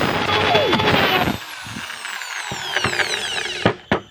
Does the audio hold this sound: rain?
no